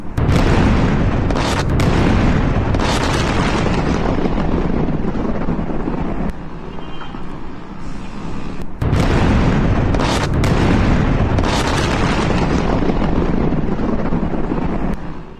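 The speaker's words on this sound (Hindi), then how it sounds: "चाबहार पोर्ट के पास हमला होता है और जबरदस्त धमाका यहां पर होता हुआ दिखता है।" Heavy explosions from bombing near Chabahar port, Iran, rumble as loud, continuous low booms with sharp bursts and a brief lull midway, dense and roaring throughout.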